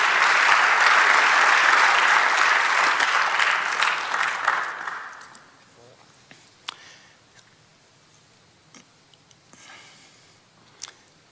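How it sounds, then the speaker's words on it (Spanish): Church congregation applauding during a Spanish-language sermon, lively clapping for about five seconds that tapers off into a quiet hall with a few scattered knocks and small noises. "dale un aplauso al Señor"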